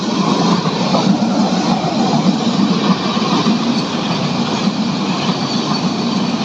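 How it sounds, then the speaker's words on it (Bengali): A long freight train passes close by on the railway with a loud, continuous rumble and steady wheel clatter that fills the whole stretch. "এটা হচ্ছে মালবাহী ট্রেন"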